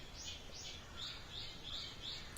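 Small birds in the horror game Paranoiac give a few faint, high, repeated chirps over a soft, hissing ambient background, with no voices.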